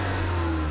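Turbocharged 4-cylinder engine of a 2012 Chevrolet Sonic LTZ, a steady droning hum with a low, even tone heard alone without talk.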